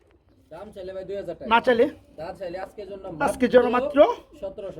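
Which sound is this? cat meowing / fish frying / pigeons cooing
pigeons cooing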